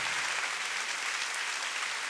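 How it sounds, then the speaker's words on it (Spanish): Congregation applauding in a church after a choir performance, a steady, fairly distant wash of many hands clapping, quiet and even throughout with no voices on top. "Aplauso sea para el Señor."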